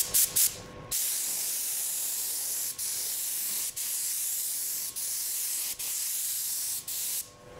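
Clear lacquer sprayed from a spray gun onto a carbon-fibre BMW M roof: a steady close hiss in several long passes, each broken by brief pauses, with short sharp bursts at the start and end.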